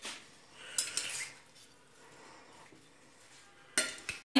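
Fruit chaat ingredients mixed in a bowl with chaat masala, soft clinks and scraping of a spoon against the dish, a few brief louder taps near the end, quiet and close with no talk.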